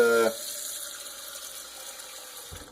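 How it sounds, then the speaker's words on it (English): Water from a tap runs into a cooking pot for chicken and rice, a steady close hiss and splash that starts abruptly and continues alone for a couple of seconds. "our first step is going to be to get our pot, put a little water in there"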